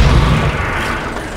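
A cannon fires in Sniper Elite Nazi Zombie Army, one loud, deep boom that opens the moment and rolls off into a dull rumble, with no voices over it.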